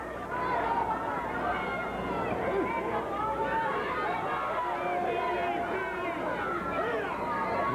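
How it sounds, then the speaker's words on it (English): A sellout crowd at a televised professional wrestling event fills an arena with dense, continuous chatter and murmuring, steady and loud throughout. "Sellout crowd here to take in the proceedings."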